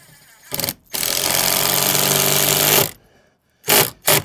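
Loud power drill bursts while pre-drilling on a bus conversion build: a short whir, then a sustained two-second drilling run, followed by two quick trigger pulses after a pause.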